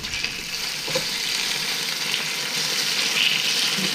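Pieces of carp grilling at about 800 W in an MPM MOP 33M multimaker, a steady loud broadband sizzle that holds evenly for the whole stretch with no talk over it.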